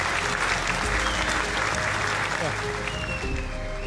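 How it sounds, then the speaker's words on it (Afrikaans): An audience at a rugby-related event breaks into sustained, loud applause, dense clapping filling the whole stretch with some voices mixed in. "Vlokkie Cilliers, kom ons geef nog aan een klap."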